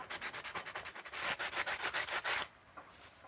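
Repeated rhythmic rubbing strokes as an edge is sanded by hand, a quick series of close, loud scrapes before a quieter pause at the end.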